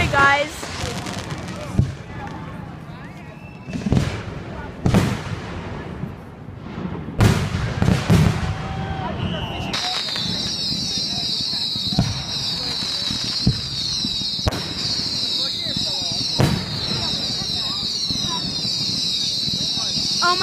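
Grand finale fireworks bursting in sharp, scattered booms and crackles amid crowd noise and voices, with a steady high whine joining partway through.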